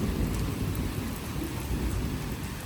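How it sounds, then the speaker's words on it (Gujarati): A heavy downpour hisses steadily, with low rolling thunder rumbling underneath; the storm is loud and continuous, and no one speaks. "બરાબરનો વરસાદ ચાલુ થઈ ગયો છે"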